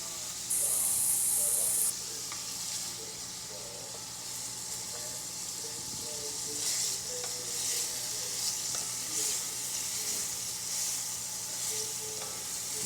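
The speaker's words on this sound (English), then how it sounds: "Making sure that the guanciale doesn't stick to the bottom" Guanciale sizzles and fries in a pan for carbonara, with steady close frying hiss and occasional scraping stir strokes; a brief higher tone sounds early on.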